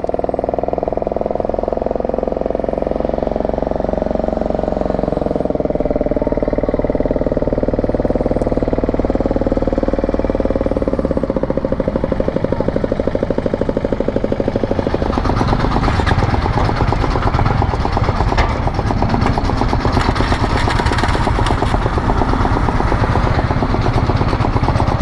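Diesel engine of the Changadam raft ferry crossing to Kadamakudy, a loud continuous low rumble that grows rougher and more clattering partway through, with no talk over it.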